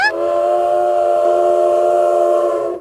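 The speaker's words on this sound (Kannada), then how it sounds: "ಶ್ರೀಲಂಕಾದ ರೈಲು ಬಂದೇ ಬಿಡ್ತು" A Sri Lankan train near Nine Arch Bridge pulls into the station and sounds one long, loud, steady horn blast that holds a constant pitch for a few seconds. No one speaks over it.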